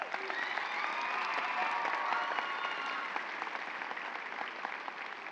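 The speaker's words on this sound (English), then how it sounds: "Again, you deserve a round of applause." A steady round of clapping from a sizable crowd at a high school graduation ceremony, dense and continuous for several seconds without any speech.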